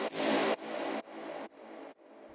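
Synth brass stabs in an FL Studio electronic dance drop: five short punchy hits in a row, each cut off sharply, the first loudest and the rest gradually softer.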